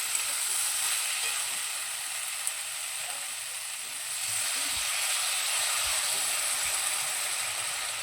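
Potatoes and soya chunks fry with spices in a pan, producing a dense, steady sizzle and hiss, close and fairly loud, with a few low knocks of stirring and no voices.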